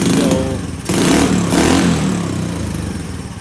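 A Honda Navi motorcycle engine with a loud aftermarket exhaust and nearly dead battery, running rough and refusing to idle: close, uneven throaty sputtering that surges, briefly cuts out and picks up again before sagging.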